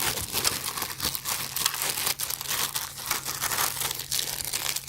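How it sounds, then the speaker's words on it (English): A plastic Ziploc bag being handled, crinkling close up in a continuous run of sharp, irregular rustles and crackles, with no talking. "Come with this Ziploc bag."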